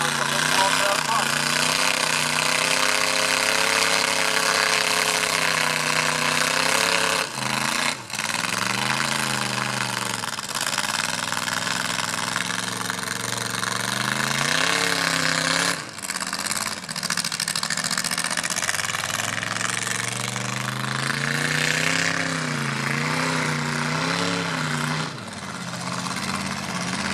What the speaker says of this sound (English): What a mighty diesel powered Fordson